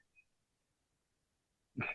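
After near silence, a single short, sharp sneeze bursts out close by at the very end.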